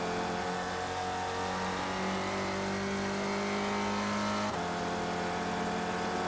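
Ford Spec Racer race car engine in iRacing, a loud steady drone rising in pitch, then dropping sharply as the car upshifts before climbing again.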